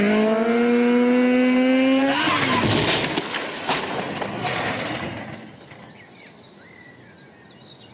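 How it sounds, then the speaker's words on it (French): A motorcycle engine revs hard with a rising whine, then roars past in a loud burst of mechanical noise before fading away into the distance, leaving faint background sound. "il peut libérer sa moto"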